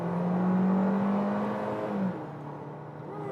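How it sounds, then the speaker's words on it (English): Turbo whine from a 2022 Seat Arona Xperience facelift driven in sport mode, a steady engine drone with a rising whistle heard from inside the cabin, continuous and moderately loud before easing off. "A lot of turbo whine."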